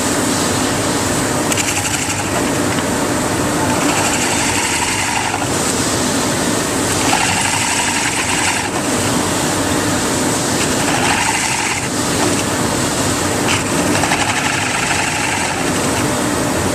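A drill whines and grinds in repeated bursts, pushing in and backing out of wood in a steady rhythm, loud and close.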